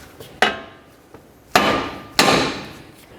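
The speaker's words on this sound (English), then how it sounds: "I like to use a hammer, and I'm going to bonk right along the knuckle right here" Three loud metallic hammer strikes on a steel steering knuckle of a Ford Fusion, spaced about a second apart, each ringing briefly before fading, with a lighter tap between.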